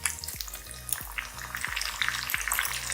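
Chopped tomatoes with ginger and garlic frying in a pan for chicken do pyaza, a steady close sizzle broken by about five rhythmic scrapes of a spoon stirring, with no voices.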